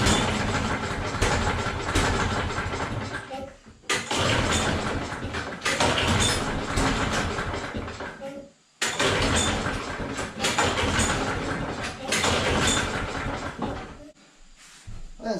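A small carbureted gas engine catches and runs loudly in three long stretches, each dying out briefly before firing up again, with the engine close to the listener.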